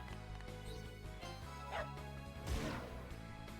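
A dog barks and attacks in the video game Wild ARMs XF, a couple of brief barks and yips alongside impact thwacks over steady game music.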